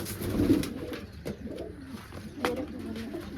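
Pigeons coo softly and repeatedly nearby, their low, rounded calls overlapping against faint background noise.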